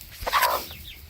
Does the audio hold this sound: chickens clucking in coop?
yes